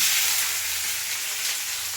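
Chana dal tadka tempering in a hot pan gives a steady, close sizzle and spitting hiss of oil, continuous for the whole moment with no voices.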